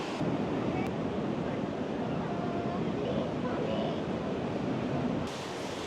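Ocean surf near Cape Town rumbles continuously with wind buffeting the microphone, a broad steady wash of waves close by.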